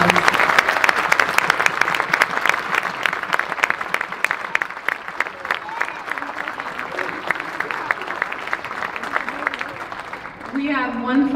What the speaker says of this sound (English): Let's give these graduates a big round of applause